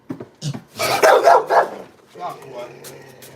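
A dog gives a few close, loud barks and growling yelps in a home, mixed with a person's voice talking over the noise.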